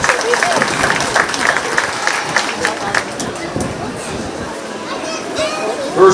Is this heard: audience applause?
yes